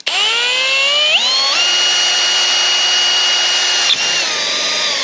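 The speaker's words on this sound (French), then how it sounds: "on va percer là directement, et on va visser sur la calandre" A power drill whines steadily as it drills into a Mercedes Vito van's grille to take drywall screws, its motor pitch climbing sharply just after starting and easing down again near the end, loud and close with no talking.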